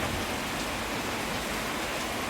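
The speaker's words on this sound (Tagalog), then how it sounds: "Mas malakas po yung ulan ngayon kaysa kanina." Heavy rain pours down in a dense, continuous hiss, loud and unbroken from start to finish.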